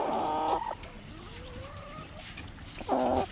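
A large Cochin hen clucks and calls with loud, harmonic squawks at the start and end and softer drawn-out murmurs between them, heard close up with no talking.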